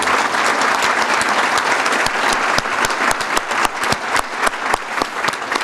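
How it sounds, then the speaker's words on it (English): An audience at a celebrity breakfast for a 2016 Danbury Westerners baseball gathering gives a round of applause: dense, loud clapping from a roomful of people, holding steady for several seconds. "I think we should give this man a real round of applause"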